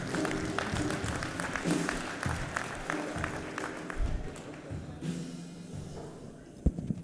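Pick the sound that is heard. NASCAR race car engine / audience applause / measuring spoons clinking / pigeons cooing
audience applause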